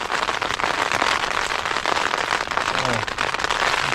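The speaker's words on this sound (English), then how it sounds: "A bit of rain." Rain falls on a tent on a windy night, a steady loud patter of drops on the fabric with wind rushing through, and no break across the whole stretch.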